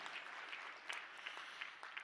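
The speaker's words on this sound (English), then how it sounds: "that is a hand clap" Sparse, faint hand clapping comes from a conference audience at a corporate diversity and talent summit, a few scattered, distant claps rather than full applause.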